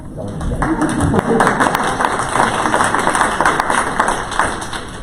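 Applause in a delegation meeting chamber, a dense patter of clapping and tapping that runs steadily while people talk over it.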